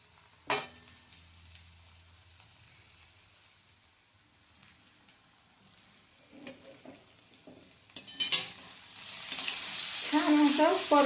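Broken wheat porridge stirred into sautéed vegetables in a pan, quiet scraping at first, then a louder burst of sizzling and stirring toward the end.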